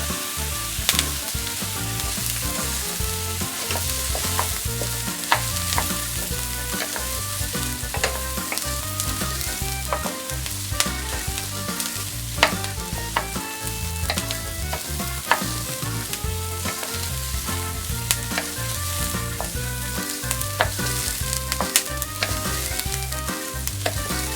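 Rice frying in a pan for Milanese-style rice, a steady loud sizzle with crackling and stirring throughout, close up and with no talk.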